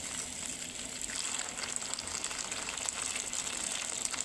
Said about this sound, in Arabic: ننزل عليها بالماء المغلي